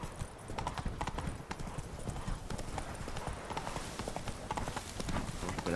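Horse hooves clip-clop in a steady, fairly close rhythm along an outdoor trail, with occasional rustling and faint voices.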